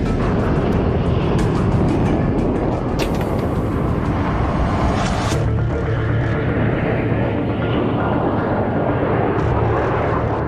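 Handley Page Victor tanker aircraft in flight during air-to-air refuelling, a loud continuous broadband jet roar that stays steady throughout, with brief higher-pitched hissing surges partway through.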